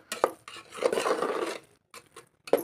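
A spoon scrapes and stirs through grated red pumpkin mixed with salt in a pan, with a few short clinks and rubbing strokes separated by brief pauses, close and fairly quiet.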